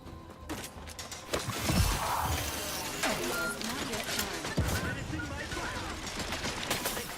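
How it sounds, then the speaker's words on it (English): Automated turrets firing in Outer Worlds 2, a dense, busy clatter of gunfire and mechanical noise running throughout, moderately loud, with occasional heavier impacts mixed in. "Are the turrets just shooting everything and anyone, or just us?"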